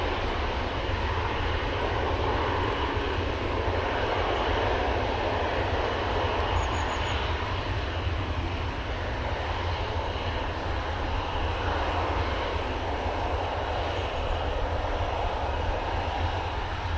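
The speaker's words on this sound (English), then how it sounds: "What an epic departure there from the Emirates A380." An Emirates Airbus A380 departing Manchester Airport produces a loud, steady jet engine roar that holds at full strength throughout, a broad continuous rumble with no voices over it.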